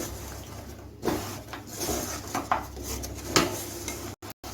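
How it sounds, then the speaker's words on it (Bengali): Fried goja pastries are stirred through sugar syrup in a pan, scraping and clinking against the metal in irregular strokes, close and moderately loud, with a brief silent break near the end. "দেখুন আমি অনবরত নেড়ে চেড়ে চিনি শিরার সঙ্গে মিশিয়ে নিচ্ছি"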